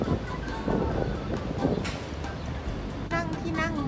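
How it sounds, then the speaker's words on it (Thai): Strong, cool wind blowing near the Brooklyn Bridge in Manhattan, a steady broadband rush buffeting the microphone throughout, with a voice speaking briefly near the end. "ลมแรงลมเย็น"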